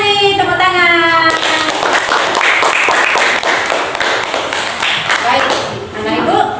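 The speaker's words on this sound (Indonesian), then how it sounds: "Terima kasih, tepuk tangan." A class of schoolchildren claps together in a classroom, a loud, dense burst of rapid hand claps that follows a voice and continues steadily for several seconds.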